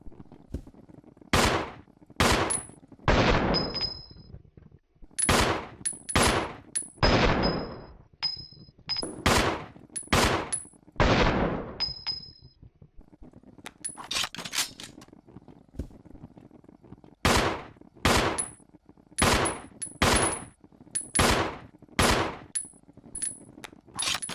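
A Samurai Edge 9mm handgun from the video game Resident Evil Zero fires about twenty loud, sharp shots, single and in quick pairs, each with a metallic ring and short decay between near-silent gaps.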